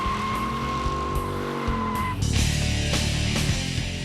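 A 1966 Corvette 427 or a 2006 Corvette Z06 does a burnout, its tires squealing loudly and continuously over a roaring engine that surges partway through.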